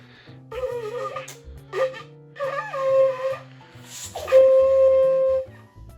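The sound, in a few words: ram's horn shofar being blown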